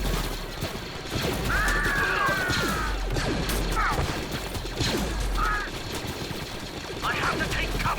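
Dense, continuous blaster gunfire and crashing impacts fill a Star Wars: Galaxy at War video game battle, with rapid bursts and sharp electronic zips layered over a loud, busy combat din.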